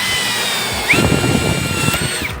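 Power drill driving a riveter gun adapter: a steady high whine that rises and strains briefly mid-run, loud and close, then settles back.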